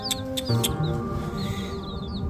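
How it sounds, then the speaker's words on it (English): A chicken with a neurological condition that keeps it looking upward makes soft, close clucks and short chirping calls in brief repeated bursts over a faint steady hum, with no talking. "This poor chicken, he's special."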